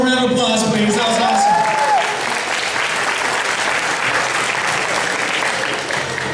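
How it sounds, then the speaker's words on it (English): An audience at a Japanese cultural night applauds performers with loud, sustained clapping from a large crowd. A voice speaks briefly at the start over the applause. "performers one more round of applause, please."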